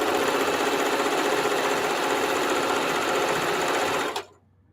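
A sewing machine stitching jelly roll placemats runs fast and steady with a dense mechanical whir and rapid needle chatter, then stops abruptly near the end, leaving quiet.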